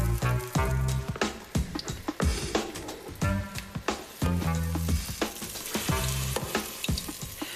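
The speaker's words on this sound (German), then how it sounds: "Brutzelt ein bisschen." Hauberling dough, a Franconian lard pastry from Haag, sizzles and crackles loudly in hot lard, with a steady close frying hiss and repeated bursts as pieces settle into the fat.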